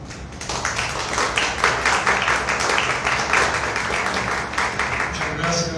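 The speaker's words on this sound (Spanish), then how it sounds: "para que pida un aplauso" Audience claps at a magazine launch presentation, a dense steady patter of many hands lasting several seconds, fairly close and even in loudness, with faint murmuring beneath.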